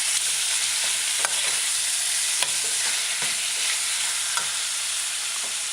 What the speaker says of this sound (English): stir it in with the vegetables and stir fry for a couple seconds